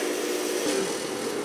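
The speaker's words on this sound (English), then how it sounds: "Wire wheel is on like a grinder" A wire wheel brush spun on a grinder cleans a Rolls-Royce Silver Shadow door lock, giving a steady, close, whirring hiss with a faint tonal whine and no talking.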